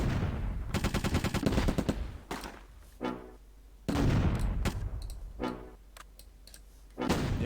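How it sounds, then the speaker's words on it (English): Mortar and gunfire from the Close Combat video game crackle in several loud rapid bursts, with quieter gaps between volleys and a few single sharp shots mixed in. "we can hold off on the mortaring now"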